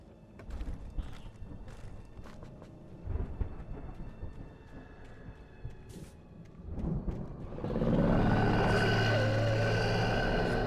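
A tractor engine in the video game Alan Wake: scattered thuds and clatter first, then a heavy, loud, droning motor roars in close and holds steady to the end.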